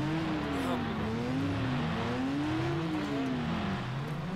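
Race car engines in the Rage 2 video game drone and rev continuously, their pitch wavering up and down as several cars run together, loud and steady throughout with faint game ambience beneath.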